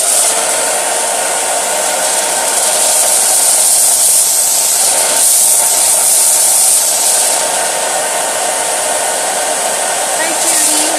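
A hair dryer blows steadily and loudly at close range, drying a Chalk Couture transfer, a constant whooshing hum with no break.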